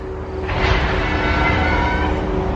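A train rumbles near a large factory complex, a loud continuous low roar with a faint tonal hum, swelling slightly and holding steady for the short stretch.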